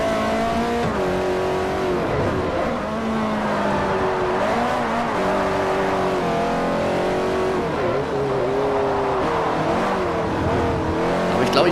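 Ferrari F430 drifting in the Forza 4 racing game: a continuous, loud engine note rises and falls as the car slides through corners, with tire squeal layered over the revving throughout.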